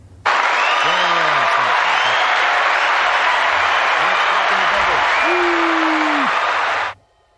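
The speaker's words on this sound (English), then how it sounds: "Can you lot hear cheering?" A canned crowd-cheering sound effect fired from a button during a live stream, loud and sustained for about seven seconds of applause and whoops before cutting off abruptly.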